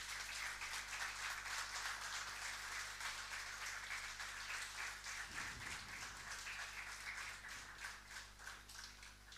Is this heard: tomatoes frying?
no